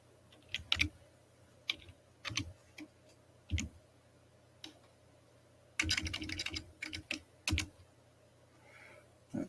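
Scattered bursts of one-handed typing on a computer keyboard at an online auction desk, uneven clusters of close clicks with pauses between them, over a low steady hum and no talking.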